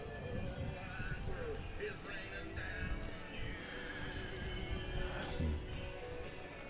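Horses at a veterans parade give brief whinnies amid the clip-clop of hooves, set against steady crowd chatter and people talking nearby throughout.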